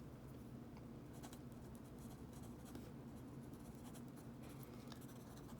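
A Platinum Preppy fountain pen with a medium nib scratches across paper in a quiet, close, continuous run of soft strokes with faint rhythmic rasps, against a low background hum.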